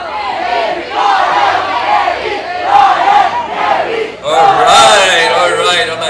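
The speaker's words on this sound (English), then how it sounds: "let's hear your cheer" A large college crowd at a film promotion event shouts and cheers together in loud, sustained waves of massed voices, surging again after a brief dip near the end.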